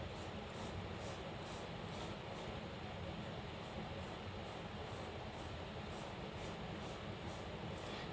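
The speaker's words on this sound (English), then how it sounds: "The noise you hear in the background is a fan." A steady fan whirs in a quiet room, a constant broadband hiss and hum running unchanged throughout, with no other sounds over it.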